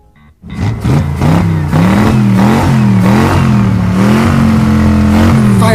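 Engines of cartoon monster trucks at a race starting line roar up from near silence and rev loudly, pitch rising and falling in repeated surges as they take off.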